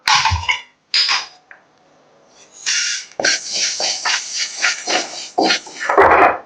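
Broken green gram dry-roasting in a pan, heard as loud, close, rattling scrapes and hissing bursts of grains shifting against the metal, with a brief quiet pause partway through.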